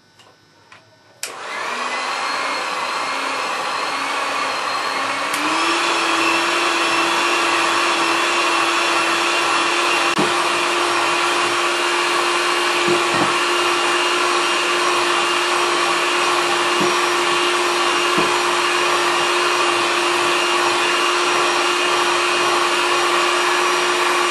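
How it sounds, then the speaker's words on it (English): Electric hand whisk whipping cupcake batter, switching on after a brief clatter and running as a loud, steady high-pitched motor whine, stepping up to a higher speed a few seconds later and then continuing unbroken. "I'll go back to using the electric hand whisk"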